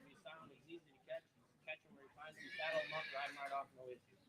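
A horse whinnies loudly at a riding horse sale in Platteville, Wisconsin, a long shrill neigh following short snorts, and an auctioneer-style voice talks around it.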